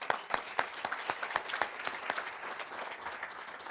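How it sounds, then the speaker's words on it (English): A banquet audience at a student leadership event applauds, a steady wash of many hands with a few sharper, louder claps standing out, moderately close and continuing without talk. "round of applause"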